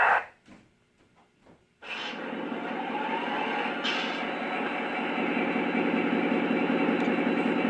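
A few soft clicks, then a Lionel Alaska GP38-2 model diesel locomotive with Legacy sound rumbles to life and settles into a steady, loud, throbbing idle.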